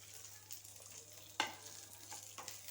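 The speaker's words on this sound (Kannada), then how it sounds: "ಹಾಕ್ಕೊಂಡು ಕೆಂಪಗೆ ಹುರ್ಕೋಬೇಕು ನಾವು ನೋಡಿ ಈ ರೀತಿ ಹುರ್ಕೋಬೇಕು" Onion and grated coconut frying in a pan, a soft continuous sizzle with stirring scrapes and one sharper clack of the spoon, quiet and close.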